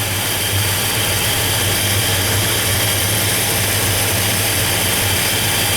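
A 1957 Chevrolet Bel Air engine runs steadily, a loud, constant low rumble with a strong low pulse and broad hiss above it, unbroken for the whole stretch with no voices.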